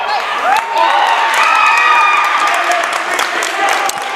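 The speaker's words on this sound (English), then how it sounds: "Great crowd here." Large crowd roaring and cheering at a high school wrestling match between Portland/South Portland and Cheverus/Massabesic, a sustained loud wash of shouts and whoops with an announcer talking over it.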